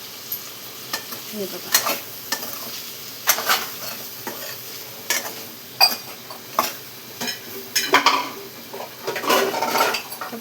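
Brinjal and potato sabzi with soaked chana dal stirred in a pan, repeated scraping strokes and metal clinks of a spoon against the pan over a low sizzle, with a brief spoken remark.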